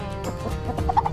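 Young meat chickens cluck and murmur steadily close by, with a few sharper higher clucks standing out near the end.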